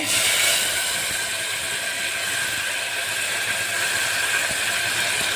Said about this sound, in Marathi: आता आपली जिरे मोहरी तडतडत आहे.